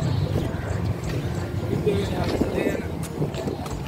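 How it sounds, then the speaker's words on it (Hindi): A water scooter boat motor drones steadily under wind rush and splashing water at Marina Beach, Dubai, with voices murmuring in the background throughout. "ये वाटर बोट है"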